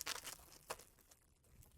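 Plastic blind-bag packaging for a small Super Mario toy being torn open by hand, with a few quick, quiet crinkling rips close by and a short pause between tugs.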